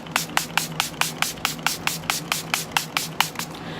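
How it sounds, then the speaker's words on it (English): Rapid bursts of Makeup Revolution setting spray mist fire in a quick regular series, about a dozen short hissing pumps close by with no talking. "I've been using this illuminating setting spray in between"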